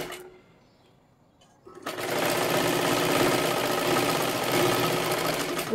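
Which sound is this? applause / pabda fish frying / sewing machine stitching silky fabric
sewing machine stitching silky fabric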